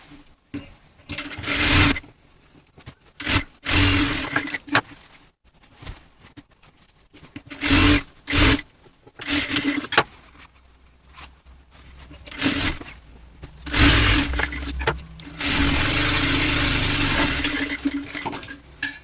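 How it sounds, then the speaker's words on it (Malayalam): A sewing machine sews both sides of a silk skirt in many short stop-start bursts with handling clatter between them, ending in a longer steady run of stitching. "അപ്പോൾ നമ്മൾ ഹുക്ക് വെക്കുന്ന ഭാഗം സ്റ്റിച്ച് ചെയ്തിട്ടുണ്ട് കേട്ടോ."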